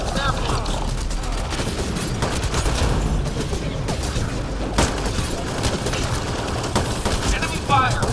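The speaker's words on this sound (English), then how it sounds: "Heavy fire. Shield got hit. Enemy fire." Heavy, sustained gunfire in a Mass Effect Andromeda firefight, with dense repeated shots and mechanical clatter throughout and voices calling out over the battle.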